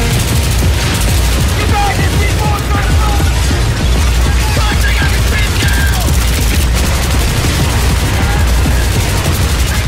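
Dense, continuous carbine fire in the indoor close-quarters combat of the video game Battlefield 3 Close Quarters: loud, relentless rattling bursts stacked over each other, with booming impacts and chaotic battle noise throughout.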